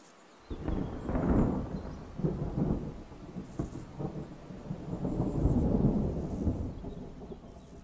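An autumn thunderstorm in a forest, with thunder rumbling loudly over steady rain, and a rooster-like bird call rising faintly near the end.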